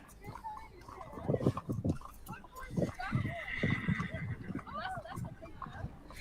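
Police horses at a trucker convoy protest in Ottawa or Toronto, with a horse whinnying and hooves clopping amid crowd noise and nearby talking.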